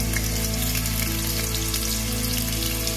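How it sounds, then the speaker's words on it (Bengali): Chopped ginger frying in hot oil in a pan for chilli paneer gives a steady, close crackling sizzle over a low constant hum, with no voices. "দিয়ে দিলাম আদা কুচি"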